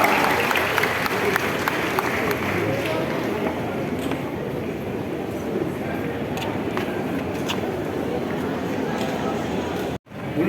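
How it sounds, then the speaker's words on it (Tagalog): A large crowd at an outdoor prayer rally in a town plaza applauds in a dense, continuous wash of clapping and cheering, loud and sustained before cutting off abruptly near the end. "Palakpakan, palakpak."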